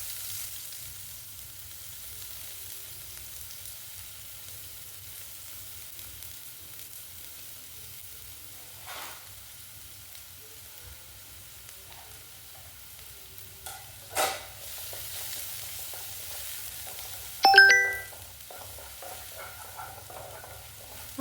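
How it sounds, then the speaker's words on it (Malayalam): Onions and crushed garlic sautéing in hot oil for a Kerala-style payar thoran, a faint steady sizzle throughout with a few soft stirring clinks and scrapes. "നമ്മൾ ഉള്ളി വഴറ്റിയെടുക്കുന്നുണ്ട് കേട്ടോ"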